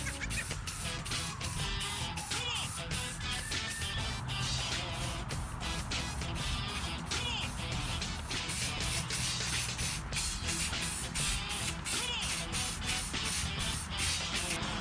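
Spray paint hisses steadily onto a foam Thor costume piece, a continuous aerosol rush with brief breaks between passes, close and loud with no talking.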